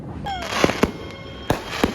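Fireworks bursting near a beach on Christmas Eve, with several sharp, loud cracks and pops spread irregularly over a steady background hiss.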